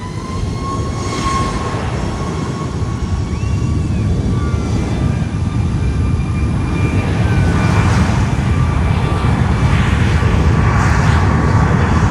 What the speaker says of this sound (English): United Airlines 2024 heading to Dulles on a 737 MAX 9 now lining up at the North Complex runway, in this case runway 8